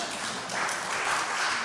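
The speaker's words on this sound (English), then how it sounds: "that deserves a hand clap" Applause from a church audience, a steady wash of clapping hands that carries on at an even, fairly loud level with no voices on top.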